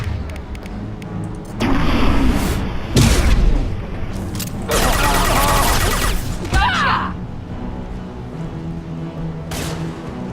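Explosions and gunfire burst loudly through Mass Effect 2 combat in several heavy, booming blasts with quieter stretches between them.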